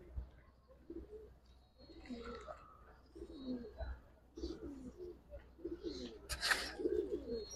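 Young Giribaz or coloured pigeons coo in a market in Old Dhaka, with low rolling coos recurring among faint voices, clicks and a sharp knock near the end.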